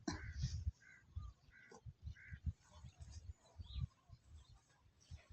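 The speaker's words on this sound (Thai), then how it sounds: "เสียงอะไร เสียงอะไร เสียงอีกา" Crows caw repeatedly in short harsh calls, fairly close, over a background of low thumping and faint voices.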